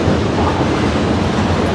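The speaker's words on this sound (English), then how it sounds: "Train showed up immediately." A train runs past on rails at a Kansas City crossing, a loud, close, continuous roar of wheels and cars with steady rumbling texture and no voices.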